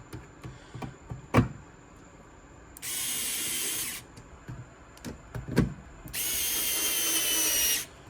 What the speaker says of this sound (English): these are just screwing into plastic